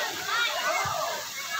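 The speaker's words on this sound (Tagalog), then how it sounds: "Ayan po, pakita ko po sa inyo yung mismong ilog." A river's running water splashes and sloshes close by in a continuous, broad rush, with a voice talking briefly over it.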